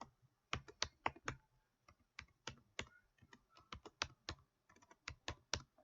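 Typing on a computer keyboard during office records-management data entry, with quick irregular bursts of close, crisp key clicks separated by short pauses, no voices.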